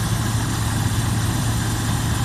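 A car engine idles with worn oil rings, giving a steady, loud low rumble with an even vibrating drone and no pauses or voices.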